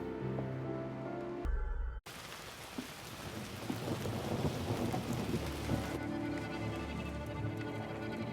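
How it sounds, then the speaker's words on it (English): Heavy rain in the video game Identity V pours steadily with a low rumbling underneath, a dense, continuous downpour following a brief musical passage and a sudden cut. "The rain's coming down harder."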